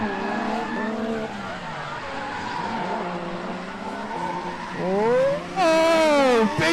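A Subaru drift car at a street drift series event roars past with a revving engine and long screeching tire squeal, sliding from a distant drone into a loud, close shriek; a commentator talks underneath.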